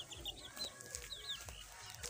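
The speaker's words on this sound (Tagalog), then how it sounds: "Ayan po ang kanyang pet manok." A pet chicken, a rooster kept for cockfighting, clucks in short bright bursts close by, with several quick calls over a low background rumble and no talking.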